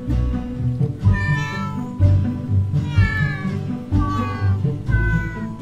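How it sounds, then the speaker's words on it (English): Cats in The Purring Quest video game sing in a series of drawn-out meows, about one per second, each rising and wavering over a rhythmic musical backing, loud and close with no talk. "Let's listen to the cats sing."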